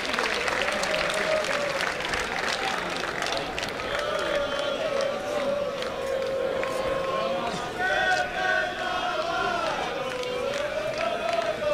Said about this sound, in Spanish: Bueno, un aplauso para estos dos luchadores.